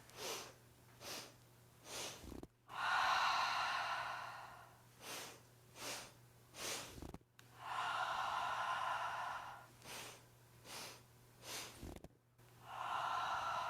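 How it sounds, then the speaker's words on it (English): Deep breathing exercise: several sharp, quick sniffing inhales in a row followed by long, loud exhales, repeated in cycles at close range. "And then we're inhaling, inhaling, inhaling, exhaling."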